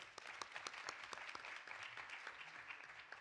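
An audience applauds at a panel discussion on instruments and experiences, a steady soft patter of many hands clapping at a distance, faint and without speech.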